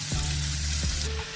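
Small onion pieces hit hot oil with a steady, close sizzle and broadband hiss, broken by a couple of soft clunks, with a low hum running underneath.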